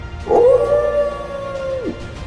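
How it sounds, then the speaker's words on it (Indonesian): A silver fox lets out one loud, sustained howl, close and alone, holding a steady tone for over a second before it drops away. "Rubah perak melolong"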